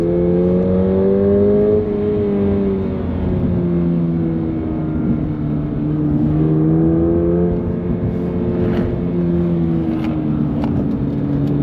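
A 2023 Subaru BRZ pulls away after a quick clutch release, engine note climbing steadily through the gears with rising tonal whine, dips at each shift, heard from inside the cabin, loud and continuous.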